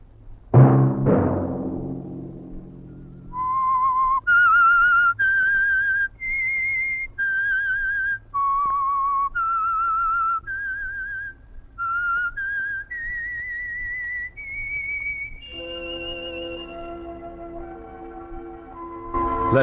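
A melodic whistled theme tune from the radio show The Whistler, clear and close, a sequence of sustained notes rising and falling, opening with a couple of sharp low thumps before the melody.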